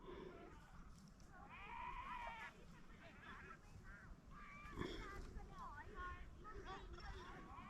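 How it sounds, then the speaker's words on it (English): Sheep and lambs bleat repeatedly at close range amid farmyard noise near Siblyback Lake, Cornwall, several overlapping calls rising and falling across the clip. "now we've got this sheep and lamb"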